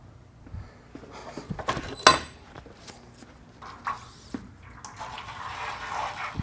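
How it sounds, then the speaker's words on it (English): Oil draining from a disassembled WP 6500 fork cartridge on a 2023 KTM 300XC, a soft irregular liquid trickle and drips with a few clunks of parts being handled, close and fairly quiet. "Now we're going to drain this oil."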